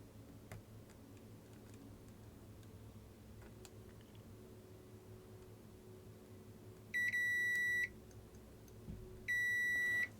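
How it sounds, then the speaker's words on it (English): A multimeter's continuity test beeps twice while fuses are checked on a Nintendo DSi board being repaired for a charging fault; two steady, shrill tones, each about a second long, follow faint ticks and clicks. "Come on, multimeter. Beep."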